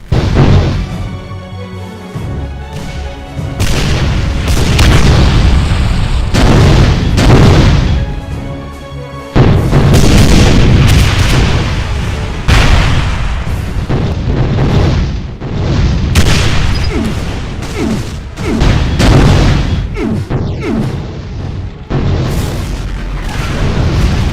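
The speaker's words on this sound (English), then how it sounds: "Wall bouncing, slightly homing Behemoth Cannon fireballs" Wall-bouncing, slightly homing Behemoth Cannon fireballs from a Mancubus variant in a DooM mod, a video game: a continuous loud barrage of booming explosions and bursts, rolling and overlapping with only brief dips.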